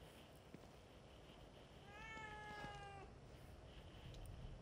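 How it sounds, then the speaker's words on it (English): A cat meows once, a single drawn-out tonal cry over quiet, hissy ambience in The Evil Within, a survival horror video game. "I don't ever remember owning a cat."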